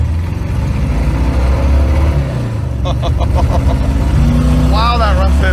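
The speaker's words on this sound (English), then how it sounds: "That sounds exactly like a Volkswagen air-cooled" A rough, lumpy idle from a Beetle-type engine that sounds like an air-cooled Volkswagen, uneven and close, with people talking over it throughout.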